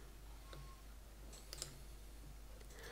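A couple of faint, sharp mouse clicks over a quiet room hum, spaced apart with no talking.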